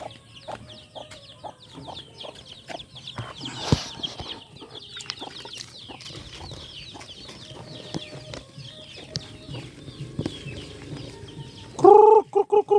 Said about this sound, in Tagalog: Mga manok ko sa labas.